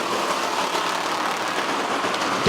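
Pure stock race cars roar together as a feature race gets the green flag at Midway Speedway, a broad, steady engine drone filling the air at even loudness throughout.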